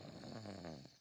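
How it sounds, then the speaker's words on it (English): A cartoon pig snores while asleep in a tent, one drawn-out, low, rumbling snore, faint and close, with no talking over it. "It sounds like snoring."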